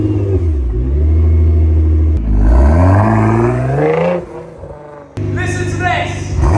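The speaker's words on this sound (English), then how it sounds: "This is how to start a GTR." A Nissan GT-R engine cranks and fires, then revs hard with rising and falling whoops, drops briefly, and blips again close up and loud.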